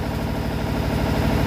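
Cummins N14 Celect Plus diesel engine held at steady speed around 1500 RPM during an injector cutout test, a continuous loud rumbling drone with even low pulsing throughout.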